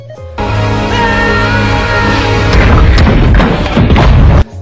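A ship blows up in a shark movie, a sustained loud, dense roar of blast and rumble with heavy low booms and crashing debris that continues for several seconds before cutting off abruptly.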